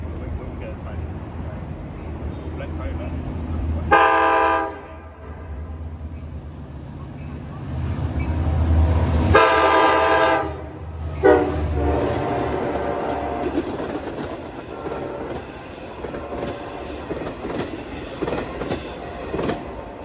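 A Long Island Rail Road commuter train, number 664 bound for Port Jefferson, passes Mineola station at evening rush hour: two loud horn blasts, then a long roar of wheels and cars rolling by close, with a voice talking over it.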